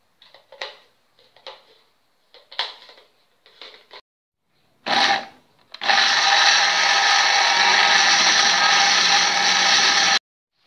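Blender grinding ginger and spices with water, a few short clattering pulses followed by a loud, steady whirring run of about four seconds, close up.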